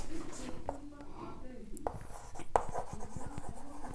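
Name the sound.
writing by hand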